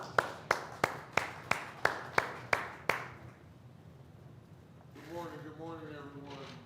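Slow, evenly spaced hand claps, about nine sharp strikes, ring out at a county HOA bootcamp event for the Fulton County Commissioner, then a pause and a voice begins speaking.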